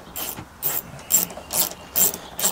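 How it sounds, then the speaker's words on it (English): A ratchet driver fitted with a T30 Torx bit clicks through short bursts while unscrewing a headlight screw on a Ford Fiesta, with five or six crisp, close ratcheting strokes spaced about half a second apart and no talking. "Or you can use a T30 Torx bit to unscrew it."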